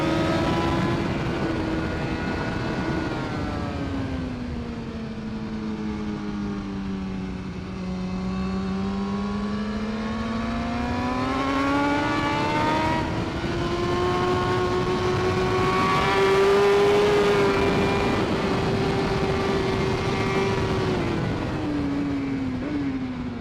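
A sportbike circles a race track, its engine holding a sustained whine that falls and rises smoothly through the gears as it corners, loud and continuous with no talking.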